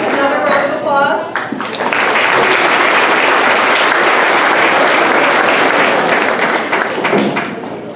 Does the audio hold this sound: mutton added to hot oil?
no